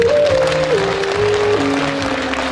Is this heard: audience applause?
yes